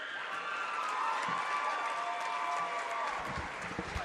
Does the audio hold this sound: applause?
yes